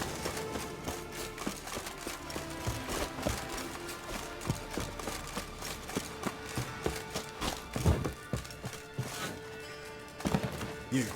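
Horse hooves clip-clop steadily on the ground in The Witcher 3, a quiet, continuous run of soft thuds and taps with no talk over them.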